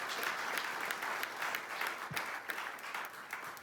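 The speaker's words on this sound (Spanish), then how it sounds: "¿Alguien le quiere dar un aplauso al Espíritu Santo?" Church congregation applauding during a Spanish-language sermon, a steady wash of many hands clapping at moderate distance, sustained throughout without spoken words.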